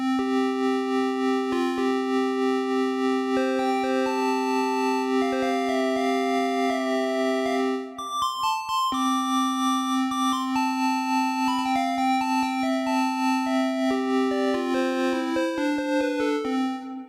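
A gliding monophonic line from AudioKit's Saga Synth with a sustained low drone, bathed in lush AudioKit reverb that lets notes ring and blur together, with a brief gap midway.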